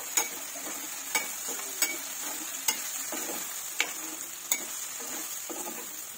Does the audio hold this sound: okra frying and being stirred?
yes